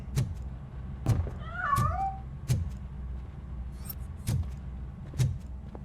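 A cat in the video game RoboCop: Rogue City lets out a single rising and falling meow between regular, evenly spaced thuds.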